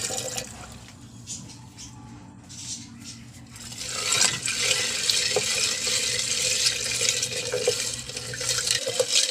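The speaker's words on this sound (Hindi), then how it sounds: "बहुत ठंडा पानी डाल दिया हमने।" Very cold water is poured into a strawberry lemon juice in a kitchen, a steady rushing, splashing stream that starts after a few quieter seconds and continues loudly to the end.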